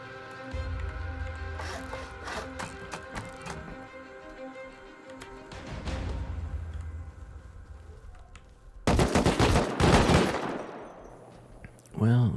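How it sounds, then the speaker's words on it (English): An automated turret in Rust fires long rattling bursts of rapid shots, steady at first, then louder and denser near the end, with occasional thuds and footsteps mixed in under a speaking voice. "Well, at least the turret's working."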